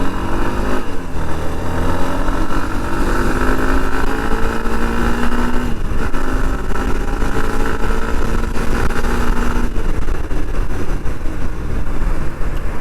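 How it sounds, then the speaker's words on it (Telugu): A Hero Xtreme 160R motorcycle, a 2021 BS6 model, pulls away from a standstill in first gear on the NH16 highway. Its engine note climbs steadily in pitch, loud and close, with wind rush behind it and no talking. "ఒకసారి మీకు ఈ బైక్ పవర్ అనేది చూపిస్తాను, అసలు ఎలా ఉంటుంది ఏంటనేది రియల్ టైంలో."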